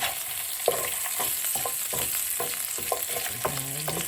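Garlic frying in a pan as the base for a spinach and potato side dish, a steady close sizzle with occasional stirring scrapes and a spoon knocking against the pan.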